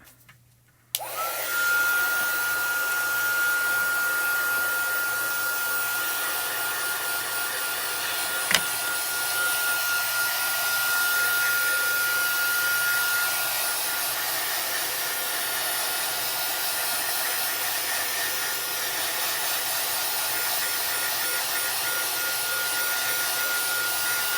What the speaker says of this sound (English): Let me just take the heat tool to it real quick. That's the heat set the ink.